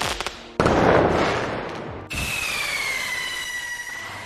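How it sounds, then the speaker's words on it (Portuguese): Fireworks sound effect triggered by a Twitch chat command: a burst of crackling bangs gives way to a whistling, rising tone over a sustained hiss, loud and close, with no talking. "que vem os fogos de artifício"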